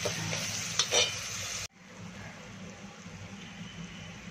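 Onion frying with salt in a pan for a dry Bombay duck and black-eyed bean curry, a close, steady sizzle and hiss with stirring scrapes that drop suddenly and then continue more softly.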